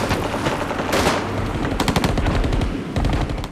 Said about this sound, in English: but they carried on firing as they left.